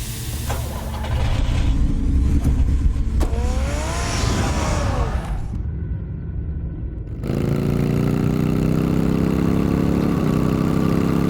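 Car engine in the Batman Telltale Series video game, idling and revving steadily with a brief cut to near-silence before settling into a continuous mid-pitched hum, loud and close, with no talking.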